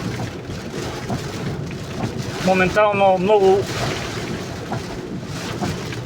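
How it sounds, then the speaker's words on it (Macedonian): Steady heavy rain roars throughout a summer thunderstorm in Delchevo, North Macedonia, while someone talks over it, with low rumbling underneath that could be distant thunder. "силен дожд, кој се спушти некаде од планината Голак"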